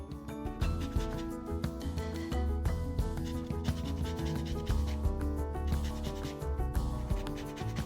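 Fresh orange peel is zested for sourdough bread, giving a quiet, continuous scratchy rasping with quick repeated strokes, close and soft.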